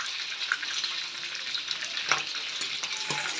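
Chicken frying in oil over a lowered flame, a steady close sizzle with bubbling crackle and a few sharper pops, continuous throughout with no talk.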